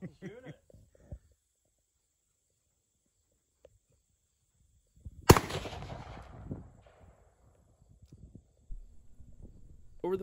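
A single loud rifle gunshot rings out on a farm midway through, with a sharp crack and a lingering rumbling echo. Brief talk comes before and after, around otherwise quiet outdoor air.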